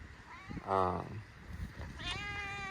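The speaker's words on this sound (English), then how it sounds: "Cats everywhere." A cat meows once loudly, with a few fainter mews following, against quiet background noise.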